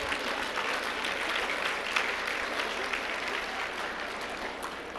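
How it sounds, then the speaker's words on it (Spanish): Conference audience clapping during an education lecture, a steady wash of applause filling the room at a moderate, even level throughout with no clear talk over it. "No le aplaudan a eso."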